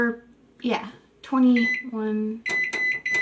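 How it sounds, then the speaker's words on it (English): A kitchen timer beeps in a quick series of sharp electronic bleeps as it is set for a cake bake. A person speaks just before the beeps begin. "I'm going to set the kitchen timer in here"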